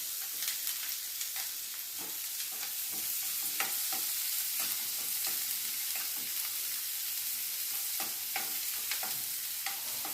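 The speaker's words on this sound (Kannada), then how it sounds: "ನಂತರ ಈ ರೀತಿ ಹೆಚ್ಚಿಟ್ಕೊಂಡ ದಪ್ಪಮೆಣಸಿಕಾಯಿ ಒಂದೆರಡು ಕರಿಬೇವು ಹೆಚ್ಚು ಹಾಕಿ ಚೆನ್ನಾಗಿ ಬಾಡಿಸ್ಕೋಬೇಕು" Chopped capsicum and a few curry leaves sautéing in a pan, a steady bright sizzle with frequent scraping stirs and ladle taps, close and continuous, no voices.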